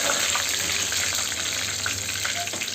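Cumin seeds and curry leaves fry in hot oil in a kadai, giving a steady, close crackling sizzle that runs unbroken through the whole stretch with no talk.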